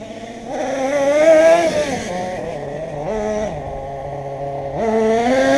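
A CEN Genesis RC truck (limited edition tank) runs with a steady, close electric-motor whine that rises, drops and steps in pitch several times as it shifts between gears, with no talk.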